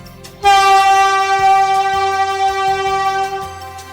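A Patna metro train sounds a long, loud, steady horn blast that begins abruptly and holds for several seconds, with rhythmic rumbling and clicks of the running train beneath it and no voices.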